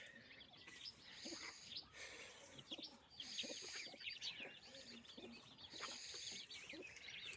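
Soft clucking from a broody hen mixes with high, thin peeping of her chicks, a quiet continuous chatter of farmyard birds with no talking.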